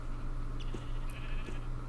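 A sheep in LOTR Minecraft bleats briefly twice over a steady low background hum, the short calls faint and spaced apart.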